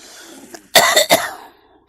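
A couple of sharp, close coughs in quick succession, preceded by a faint throat sound, with quiet before and after.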